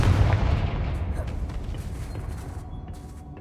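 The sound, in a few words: Confringo spell blast in the video game Hogwarts Legacy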